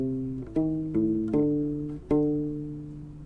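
U-Bass playing a song from measure 12, a handful of plucked notes with deep, round, sustaining tones that overlap and fade, each new note clearly attacked.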